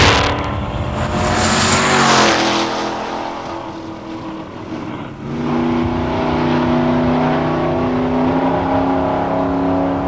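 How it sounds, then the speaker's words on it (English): A 1971 Ford Maverick and a Chevy Nova 396 launch side by side in a drag race, engines roaring and revving hard, dropping briefly at a gear change, then rising again as the cars pull away loud and close. "it's Patty Dick and a 71 Maverick racing Chris Holliday's Nova 396"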